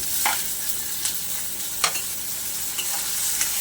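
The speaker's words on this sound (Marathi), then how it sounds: "टॉमॅटो सुद्धा अगदी आपल्याला एका मिनिटासाठी परतून घ्यायचं आहे" Chopped tomatoes frying with onion in a pan for a tondli and potato curry, a soft steady sizzle broken by a few sharp stirring scrapes, close and moderately quiet.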